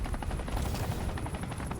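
A helicopter in the video game Batman: Arkham Knight gives a steady, fast rotor chop that holds at a moderate, even level.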